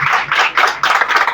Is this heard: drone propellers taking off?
no